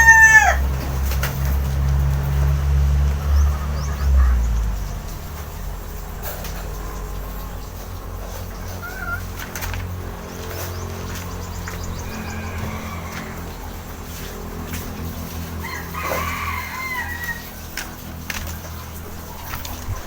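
Gamefowl roosters crow and cluck in the open, with several calls scattered across the scene over a low hum that is strongest in the first few seconds.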